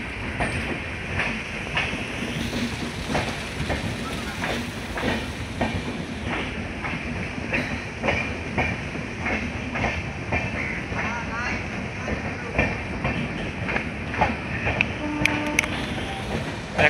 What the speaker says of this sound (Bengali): গুয়াহাটি থেকে ট্রেনটা আসছে,